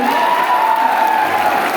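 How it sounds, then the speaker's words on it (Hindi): A crowd at a foundation day festival, with children in the audience, applauds Sunny sir as he comes on stage: a loud, continuous wash of clapping with a steady tone running through it. "सर के लिए एक बार जोरदार तालियां।"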